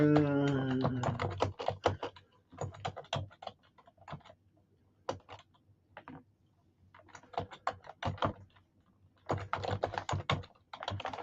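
Typing on a computer keyboard, with bursts of quick close-up key taps separated by short pauses, following a brief spoken phrase at the start.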